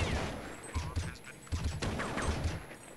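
Rapid rifle fire rattles in repeated short bursts during a Counter-Strike match on the Inferno map, with fast excited commentary running over the shots.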